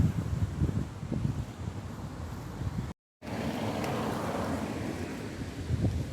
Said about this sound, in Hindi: कितनी प्यारी प्यारी ठंडी ठंडी हवा चल रही है।